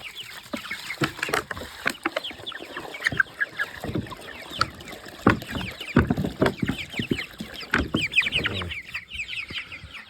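A group of chicks drinking at a waterer cluck and cheep close by. Their busy, overlapping chirps and soft clucks continue for about ten seconds alongside light scratching and tapping noises.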